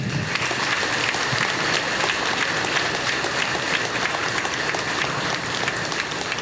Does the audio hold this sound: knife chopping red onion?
no